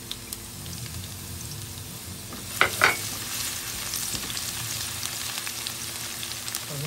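Garlic sizzles steadily in a hot pan with a continuous bright hiss, broken by a couple of close scraping stirs of a utensil against the pan.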